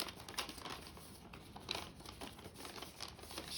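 Paper rows being folded under to form the roof of a house-shaped nesting box, giving soft, close crinkling and rustling across a few seconds.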